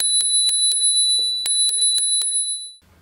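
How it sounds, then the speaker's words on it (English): Bell on the handlebars of a Hiboy S2R electric scooter rung several times close up, bright metallic dings in an uneven series, alone with no talk. "on the handlebars is there is in fact a bell."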